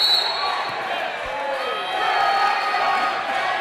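A home crowd at a college volleyball match between Southern Virginia and Marymount cheers loudly and continuously in a gym, a dense roar with scattered shouts that swells again toward the end.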